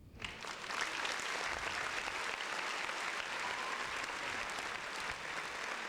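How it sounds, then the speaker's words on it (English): Sustained live studio audience clapping on a podcast set, a full, even burst of applause that swells in quickly and continues unbroken for roughly six seconds, no talking. "A round of applause."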